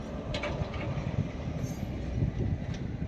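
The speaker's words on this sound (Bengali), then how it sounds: "এই ইঞ্জিনের মাধ্যমে কাটোয়া থেকে এই লোকাল ট্রেনটি আজিমগঞ্জের দিকে প্রবেশ করছে" A locomotive-hauled Katwa–Azimganj local train rumbles past nearby at the Nashipur rail bridge, a heavy low drone with rolling wheel noise and faint rhythmic clatter throughout.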